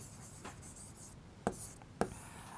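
Chalk or marker scratches across a board during a physics class, with soft strokes and two sharper taps close by in an otherwise quiet room.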